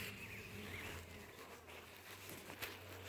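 Honey bees in a hive during a spring brood inspection make a steady, close, dense buzz that holds for the whole stretch, with a low hum underneath and no voices.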